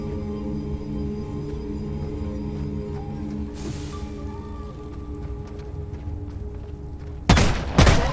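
Two loud shotgun-like shots fired close together in a first-person video game, bursting sharply at the end over a steady droning ambient soundtrack.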